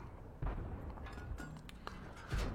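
Tank cannon fire in an online tank battle game: a deep booming shot lands near the start and another at the end, with lighter impact crackles between over a steady low background rumble.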